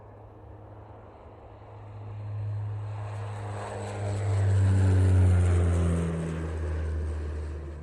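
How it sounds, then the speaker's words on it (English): A Gulfstream G650 twin-engine business jet, a low steady engine roar that swells in the middle and holds, heard alone without voices. "The Gulfstream G650 is a twin-engine business jet airplane produced by Gulfstream Aerospace."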